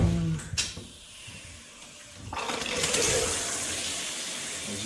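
A household tap runs while someone waits for the hot water to come through, with a steady rushing stream starting after a short pause and continuing to the end, preceded by a few brief knocks.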